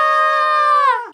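A sustained, loud vocal scream of about one second, held steady before trailing off at the end, standing alone with no other sounds around it.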